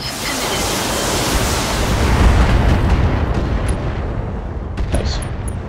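Mech weapons fire together in the video game Battletech, producing a dense, loud, continuous roar of blasts and explosions that rumbles heavily for several seconds. A few faint high tones sound near the end.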